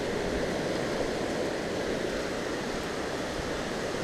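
Flood water rushes past the Hueston Woods covered bridge near Oxford, a loud, constant roaring wash of water with no breaks and no voices.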